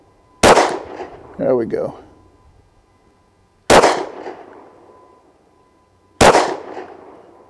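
Three sharp, loud .40 caliber shots from a Smith & Wesson SD40VE pistol fired at a spinner target at 7 yards, spaced a few seconds apart with short echoing tails, and a brief spoken remark between the first two.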